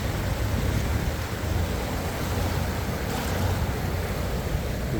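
High water rushes over a river dam on the Fox River, a steady, dense roar of churning water with some wind buffeting, continuous and unbroken throughout.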